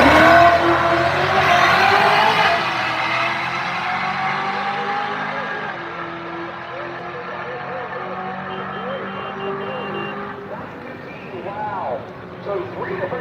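Drag race cars making a run roar loudly with heavy engine noise at the start, then fade into a long, sustained drone as they pull away down the strip, with an announcer talking over it.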